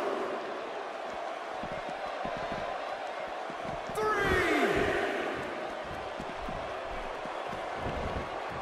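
A steady arena crowd cheers and murmurs throughout a WWE wrestling video game, with a louder swell in the middle. A commentator's voice talks over the crowd noise.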